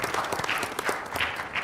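Seminar audience in Bogor applauding its speakers at an international One Health seminar, a dense burst of many hands clapping steadily and fairly close for a short stretch.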